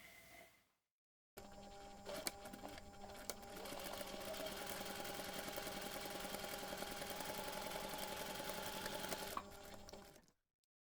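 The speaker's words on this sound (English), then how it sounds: "take your pouch to the machine one more time and then sew the seam again" A sewing machine runs a steady seam on a fabric drawstring pouch, a close, even mechanical hum with fast stitching rhythm lasting about nine seconds after a short pause, then stopping; no talking.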